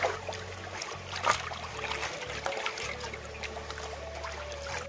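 Raw desi chicken being washed by hand in water, with continuous splashing, trickling and sloshing close by, plus a low steady hum underneath and a few sharper clatters, no voices.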